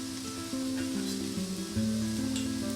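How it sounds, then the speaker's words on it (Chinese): Cooked rice is stir-fried in a pan with turmeric and raisins, a steady close sizzle with a few soft scrapes of the spatula, continuous and alone with no voices. "最后就是把米饭也加进去一起炒"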